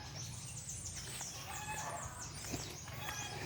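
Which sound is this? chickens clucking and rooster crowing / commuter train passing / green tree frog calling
chickens clucking and rooster crowing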